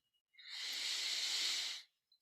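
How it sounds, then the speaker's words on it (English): A person draws one long, slow in-breath during a mindfulness meditation session, a soft airy hiss that swells, holds for over a second and fades, close to the microphone in an otherwise quiet room. "Breathing in,"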